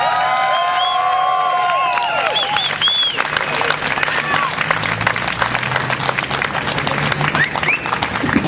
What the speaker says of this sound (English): So with a big round of applause, ladies and gentlemen, may I introduce you to Libby Davies